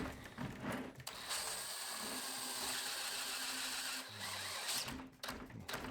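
A DeWalt impact gun drives a fastener back on, giving a sustained, fairly quiet rattling hammer for about three seconds between short tool-handling noises.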